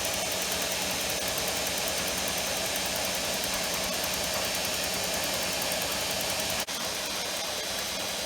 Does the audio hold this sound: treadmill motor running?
yes